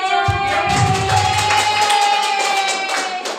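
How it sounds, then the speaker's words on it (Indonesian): A classroom of students clapping together during a peer-teaching lesson, a busy sustained patter of many hands that fades toward the end, with a faint low voice near the start. "Oke, tepuk tangan semua."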